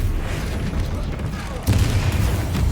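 Spell blasts in the video game Hogwarts Legacy land as heavy, booming impacts amid a rumbling battle, with a sharper, louder burst partway through; a voice speaks over the combat noise.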